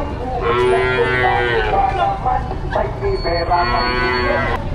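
Cattle at a livestock market in Padre Garcia, Batangas, give two long, loud, close moos, with voices murmuring in the background.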